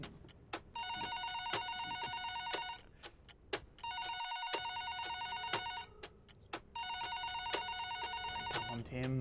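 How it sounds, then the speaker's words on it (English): Old-style telephone bell ringing in three long bursts with short gaps, loud and clear, as a radio host waits for a caller to pick up. "Let's see if Tim answers"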